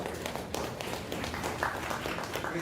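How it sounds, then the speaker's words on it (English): An audience at a tech meetup gives a round of applause, a steady wash of many hands clapping at moderate loudness, with a few sharper claps scattered through. "Let's give a round of applause for Sanjay."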